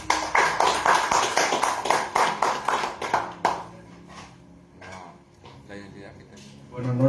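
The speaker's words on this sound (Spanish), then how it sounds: "lo recibimos con un fuerte aplauso" Audience applause welcoming a speaker at a testimony gathering, steady rhythmic clapping for about three and a half seconds that fades into scattered claps and murmuring voices.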